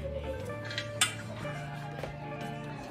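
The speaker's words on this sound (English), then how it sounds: "Then I take my canner." A metal canner is picked up and set in place in a home kitchen, producing faint clanks and one sharp metallic clink over a steady low appliance hum.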